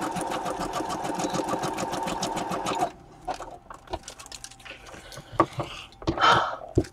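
A sewing machine stitches in a fast steady rhythmic whir for about three seconds, then stops, leaving scattered clicks and handling noises close by.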